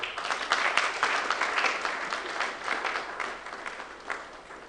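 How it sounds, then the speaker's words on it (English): An audience at a seminary alumni homecoming claps warmly for a welcome speech, a dense, even round of applause that holds steady for several seconds before easing slightly, with no voices over it. "Please, may we give you a round of applause."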